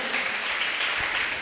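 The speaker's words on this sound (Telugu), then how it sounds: "చప్పట్లు కొట్టేసే నామాన్ని గనపరుద్దాం" A church congregation claps together during a Sunday resurrection worship service, producing an even, full roar of applause that carries through the whole short moment with no speech.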